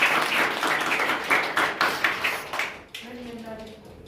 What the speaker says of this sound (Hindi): इसलिए जोरदार ताली से स्वागत करें